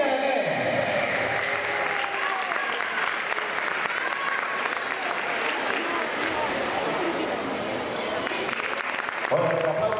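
Sustained applause from a gymnastics competition crowd at a podium ceremony for the uneven bars winners, dense and even clapping in a large hall with some voices mixed in.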